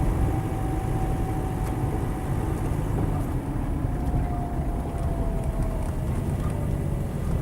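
A seven-seat Land Rover 90 with a 2.5 turbo diesel slows under braking. A steady, close rumble of engine and road noise runs throughout while a faint whine gradually drops in pitch.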